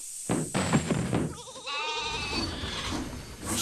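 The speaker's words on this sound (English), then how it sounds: "Sheep." A sheep bleats loudly and close by with a wavering, quavering cry lasting about a second, after a brief bit of other sound.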